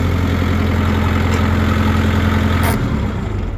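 A tractor engine idles close by with a loud, steady low throb and a constant hum that stays even throughout the clip.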